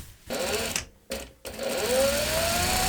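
A sewing machine stitches pockets onto a tea towel skirt, running steadily and fairly close in bursts with two brief pauses, then a longer continuous run with a rising whine.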